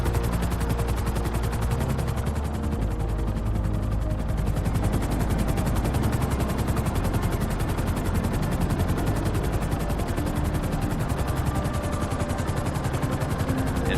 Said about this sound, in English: So I'm going to hop to Trevor and use his